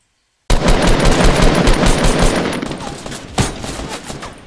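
Fortnite video game gunfire, a dense stream of rapid automatic shots that starts abruptly after a brief silence and hammers on continuously, loud and close, with a sharper burst near the end.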